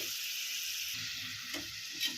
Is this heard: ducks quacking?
no